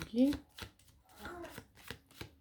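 Tarot cards being shuffled and dealt, giving a few soft papery riffles and flicks at close range, with a short tonal voice-like sound near the start.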